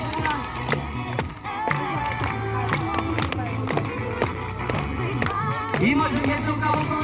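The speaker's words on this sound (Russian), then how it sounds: "Хлопаем!" An audience claps in rhythm along with a hip-hop beat, sharp regular claps layered over music while a voice calls out now and then.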